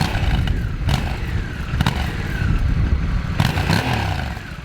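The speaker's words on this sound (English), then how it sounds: "And here Africa Twin sounds so nicely loud and so aggressive" A Honda Africa Twin 1100 DCT two-cylinder inline engine runs loud and close with a rough, aggressive rumble, pulsing steadily with a few sharper throttle bursts.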